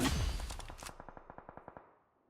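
A burst of automatic gunfire in a battle royale video game: after an initial loud blast, about a dozen evenly spaced shots rattle off in quick rhythm, then fade quietly, with no voices.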